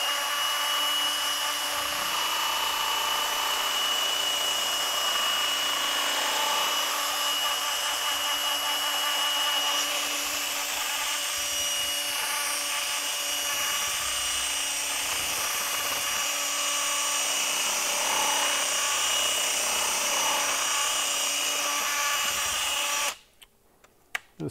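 A power drill runs continuously while mixing resin for casting, a loud steady whirring drone lasting over twenty seconds before stopping abruptly, with no talk over it.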